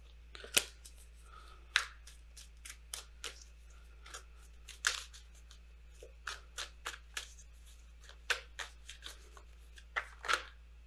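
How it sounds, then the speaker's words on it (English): Oracle tarot cards are shuffled by hand in a quiet room, giving a run of crisp papery riffles and slaps in irregular bursts, fairly close and alone with no talk. "I'm going to shuffle really good."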